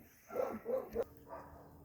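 Dogs in a home give a few short, soft barks and whimpers in quick succession, muffled and somewhat distant, with no talking.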